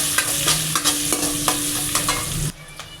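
Chopped onions frying in hot oil for an okra dish, a bright, close sizzle broken by repeated rhythmic scrapes of a spatula, ending suddenly with the sizzle dropping away near the end.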